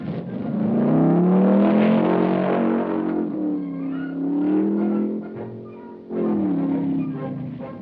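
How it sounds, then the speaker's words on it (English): Powerful vintage championship race car engines roar and rev nearby at the 1965 Pikes Peak Hill Climb, the pitch rising and falling as they climb the mountain, with a brief dip before another surge. "spectators are well dusted as the big championship cars roar by."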